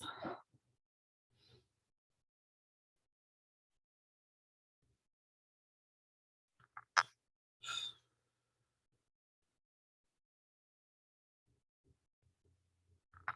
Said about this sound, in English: tilt your head up to blow it out the blowhole